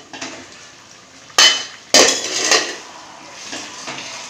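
A metal lid comes off a pot of prawn and tomato-aubergine curry with two sharp clanks close by, followed by softer scraping knocks and a faint kitchen hiss, with no talking.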